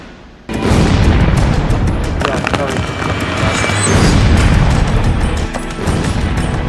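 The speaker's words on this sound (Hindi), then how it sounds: "ताइवान की सेना ने अब युद्धाभ्यास के बहाने अपनी आर्टिलरी का मुंह खोल दिया है।" A Taiwanese army artillery live-fire drill sounds as a sudden loud boom followed by a sustained roar and further overlapping blasts and rumbling reports, dense and heavy for several seconds.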